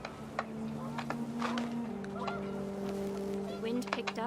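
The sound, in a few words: panicked geese honking in video game What Remains of Edith Finch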